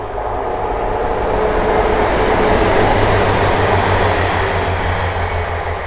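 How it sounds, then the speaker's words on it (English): A train passes close by near houses, a loud, steady rumble of wheels and cars that holds for several seconds without breaks. "and another train comes by."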